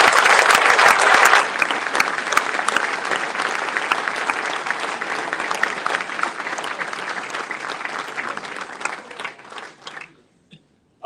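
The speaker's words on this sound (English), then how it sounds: "Let's throw a round of applause." An audience at a Sheffield Wednesday supporters' trust annual general meeting breaks into loud, dense applause that holds steady for about nine seconds, then thins out and stops abruptly with a few last claps.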